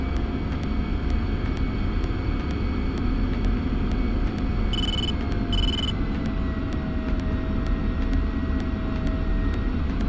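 Mi-24P Hind helicopter in the DCS flight simulator taxiing toward the runway, a steady, loud turbine drone with a fast, even rotor tick throughout and two short electronic beeps midway.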